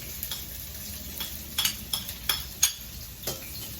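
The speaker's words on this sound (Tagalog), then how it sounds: "halu-haluin lang natin" Onions being stirred in a pan while cooking pinakbet, a soft sizzle beneath a string of sharp spatula scrapes and clicks at irregular intervals, close and moderately quiet.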